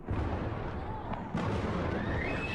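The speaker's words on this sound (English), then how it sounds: "you can hear huge explosions out there in the distance" Distant explosions from Israeli airstrikes on Tehran rumble as a heavy, continuous low roar, with a sharper boom partway through and faint crackle over the dense background.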